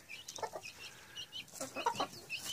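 Ross 308 broiler chicks and their mother hen clucking and peeping outdoors on netting, with repeated close, busy bursts of cheeping and clucks across a short stretch.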